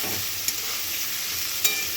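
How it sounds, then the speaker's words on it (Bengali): Vegetables for khichdi sizzle steadily in a pan, with two quick stirring scrapes. "এই দেখুন সব সবজিগুলো আমি দিয়ে দিয়েছি, দিয়ে এটা ভালো করে লাল লাল করে ভাজবো।"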